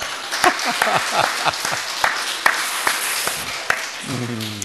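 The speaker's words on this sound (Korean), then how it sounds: "박수 한번 주십시다." A church congregation breaks into applause, a burst of clapping with sharp individual claps standing out, fading toward the end as a voice starts speaking.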